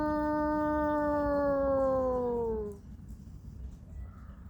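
A person imitates a wolf howl in the snow: one long, loud, sustained tonal howl that glides slowly downward and fades out after nearly three seconds, leaving quiet outdoor background.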